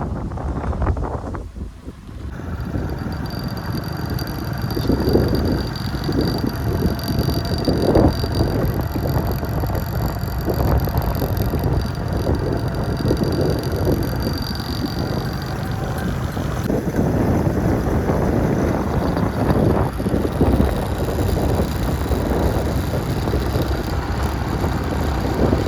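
Steady wind buffeting the microphone on a mountain road during a climb, a continuous broadband roar that persists close and loud throughout with gusty fluctuations and no talk.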